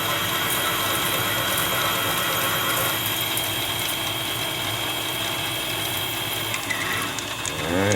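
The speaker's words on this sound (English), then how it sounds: "I love drill bits. You can see the chips coming off of both flutes." Large drill bit cutting a hole in metal at low speed on a machinist's mill, a steady mechanical whirring and grinding hum with faint clicking, continuous and close.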